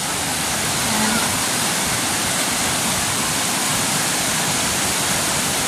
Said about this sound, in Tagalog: Tinignan nila yung baha. Kasi sobrang lakas.